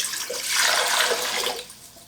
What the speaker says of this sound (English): Pour it. It should be cold water.